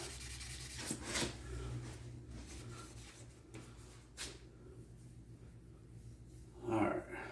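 A Scotch-Brite pad scrubs a metal adapter plate for a GT40 transmission, giving soft, intermittent rubbing strokes that are faint and close, with a louder scrape near the end.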